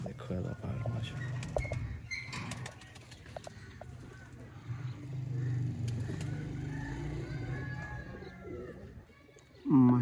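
Kamagar pigeons kept by a fancier, soft low cooing murmuring steadily close by, with brief wing flaps and a passing car in the background.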